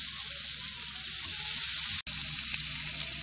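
Chicken and capsicum shashlik sticks sizzle over a low flame, a continuous, close crackle of frying with no voices.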